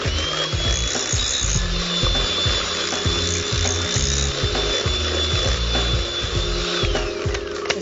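An electric mixer beats butter, icing sugar and orange zest for an iced orange cake: a steady motor whine with a continuous knocking, clattering rhythm that runs unbroken, close and fairly loud, with no talking.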